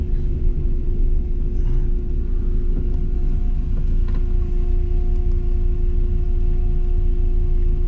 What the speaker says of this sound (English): So that thing I hear whirring, is that a fuel pump in here?